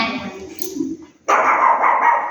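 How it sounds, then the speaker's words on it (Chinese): A dog gives a short whimpering yip, then a sharp louder bark breaks out, close and abrupt. "姐姐当狗狗对你叫的时候，你们就都不要看它。"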